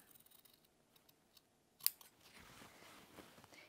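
Scissors trim the curved seam allowance of a fabric collar with stand, giving one sharp close snip amid faint handling rustle and quiet room noise, with no talk.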